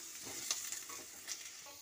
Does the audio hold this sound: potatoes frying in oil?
yes